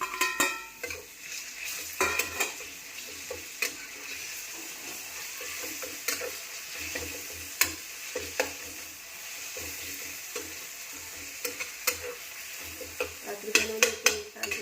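Two brinjals fry in an oily chutney in a pan, a soft steady sizzle under frequent scraping, stirring clinks and taps of a spoon against the pan, with no speech.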